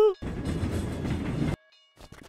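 A cartoon train rumbles and clatters loudly along the tracks for over a second, then cuts off abruptly, leaving brief faint noises.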